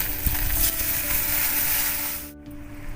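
Boiled mung dal mixed with radhuni spice paste bubbles and hisses steadily in a pan. The dense, even simmering sizzle cuts off abruptly near the end.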